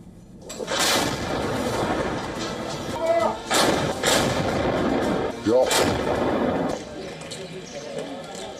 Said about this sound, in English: Hezbollah is using some kind of heavy artillery-style shelling against Israel, and the images released by the group show some artillery guns in use.